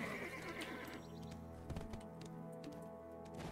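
A horse whinnies in the fantasy MMO Black Desert Online, a clear game neigh with clip-clopping hooves and ambient game music layered underneath, steady and close throughout.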